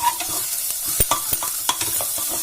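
Salt and spices are stirred into dalia in a pan, with quick irregular scraping and tapping of a spoon over a faint sizzle close up.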